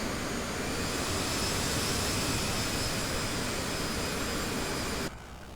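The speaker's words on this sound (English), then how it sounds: "Bringing up the throttles." Jet engines of an airliner spooling up as the throttles are advanced during descent below 9,000 feet, a steady, loud broadband roar with high whine that cuts off abruptly near the end.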